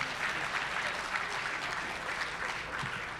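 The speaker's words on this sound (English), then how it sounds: "Let's give them another round of applause." A gala audience gives a steady round of applause, dense even clapping filling the room throughout, loud and continuous with no talk over it.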